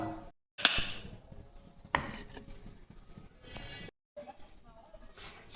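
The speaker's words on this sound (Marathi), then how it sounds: "आणि हे काजू बदाम घेतले, आता याचे तुकडे तुकडे करून घेतोय आम्ही लाडूमध्ये टाकण्यासाठी." Cashews and almonds are chopped into small pieces with a knife for ladoos. A handful of sharp, close knife strikes land at irregular intervals, separated by short pauses.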